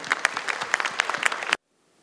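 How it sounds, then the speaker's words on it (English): Brief applause from a small crowd at a conference opening in Malaysia, sharp clapping for about a second and a half before stopping abruptly into near silence. "A round of applause."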